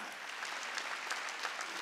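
A church congregation claps during a Wednesday worship service, producing a dense, steady patter of many hands throughout, soft and somewhat distant.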